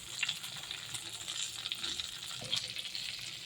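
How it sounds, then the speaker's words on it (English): Brinjal pieces frying in a pan with salt and turmeric for begun illish, giving a steady close hiss of sizzling oil with faint stirring, heard alone without voices. "Now fry it."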